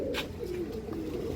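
Pigeons coo in a short, soft, rounded burble close by, with a faint chirp at the start.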